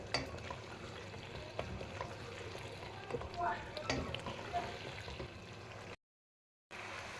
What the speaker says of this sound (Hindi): अब इसका पानी खुश्क हो रहा है, अब हम इसकी अच्छे से बुनाई कर लेंगे।